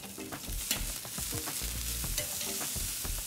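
Meat sizzles steadily in a hot pan as it is turned, a close, constant frying hiss broken by scrapes and clicks of the utensil against the pan.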